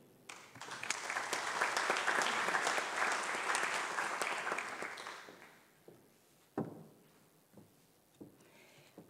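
Audience in a hall at a colloquium on Julius Nyerere applauds loudly for several seconds, then the clapping fades to a few scattered claps and knocks.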